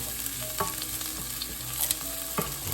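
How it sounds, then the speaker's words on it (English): Garlic sautéing in oil in a pan, a steady close sizzle and fry with light stirring scrapes and clinks over it, no talk. "sauteing our garlic. Let's brown them a bit."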